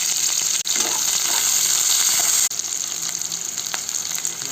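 Shallots, curry leaves and mustard seeds fry in a hot pan for village-style dried-fish fry, giving a loud, steady sizzle close by with a couple of brief breaks, and no talking.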